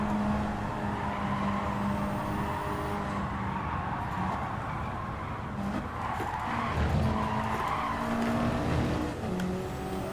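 Car tires skidding and squealing while drifting in the racing game Gran Turismo 7, a steady engine drone under long wavering tire screeches that rise and fall throughout.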